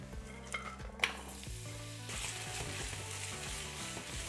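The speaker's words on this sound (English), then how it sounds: "we bring the heat back on to stir fry the celery" Celery stir-fries in hot olive oil with black peppercorns, giving a steady close sizzle that swells and stays loud, broken by a couple of clanks from the spatula and a low hum underneath, with no talk.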